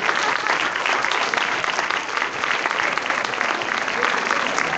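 Sustained applause from a concert audience at a stage performance, a dense even wash of clapping filling the whole stretch at steady loudness.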